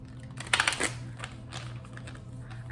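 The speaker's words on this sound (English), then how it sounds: "Let me shuffle." A deck of Keepers of the Light oracle cards is shuffled in a brief flurry of soft papery riffles and taps, quiet and close, with no talking.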